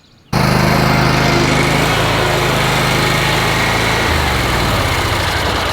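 A Wright lawn mower engine starts abruptly and runs loud and close at a steady idle, with its low throbbing pitch shifting slightly near the end.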